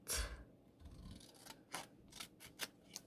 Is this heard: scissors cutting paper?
yes